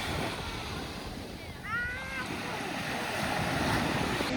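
Ocean surf washing onto the beach at Fort Pickens, a steady broadband roar of breaking waves with wind noise on the microphone throughout, plus a brief faint whistle-like sweep partway through.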